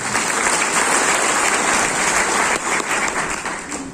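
Loud, dense applause from a large audience at a Malayalam talk or lecture, a steady wash of many hands clapping that holds for several seconds before easing slightly at the end.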